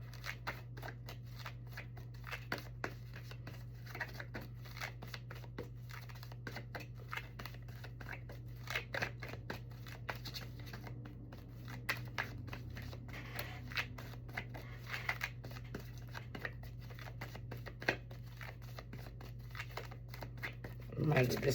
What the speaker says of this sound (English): Let's pull 2 cards from here